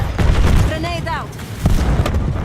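Grenade explosion in a military shooter video game, a loud boom with rumbling low end under radio-style game voice chatter and a brief rising tone.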